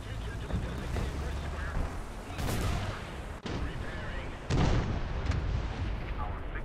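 A 106 mm gun on a FIAT 6614 armoured car fires in War Thunder, sharp loud blasts standing out near 2.5 s and 4.5 s over steady rumbling battle noise.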